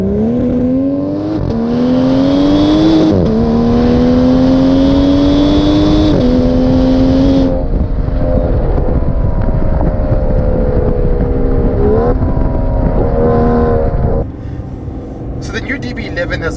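A powerful V12 engine in an Aston Martin DB11 sports car revs and accelerates hard through several gears, a loud, rising roar with brief drops between shifts, then settles lower near the end.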